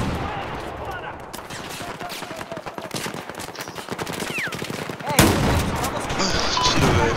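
Rapid bursts of gunfire from the video game Battlefield 4, a dense crackle of shots running throughout with a sharper, louder blast near the end, mixed with game ambience and occasional voices.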